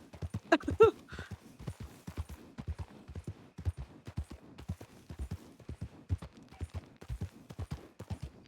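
Galloping horse hooves in a WildRP Red Dead-style game, a Kladruber mount urged to run; a steady, rapid clip-clop rhythm of hoofbeats continues throughout, moderately close, with a brief louder burst near the start.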